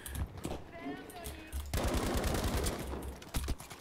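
Battlefield V multiplayer gunfire rattles in rapid automatic bursts, loud and close, with someone talking over parts of the shooting.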